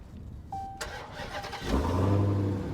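A 2019 Dodge Challenger SRT Hellcat Redeye Widebody fires up: a faint chime, a brief crank, then the engine catches with a deep, loud roar and settles into a rumbling idle.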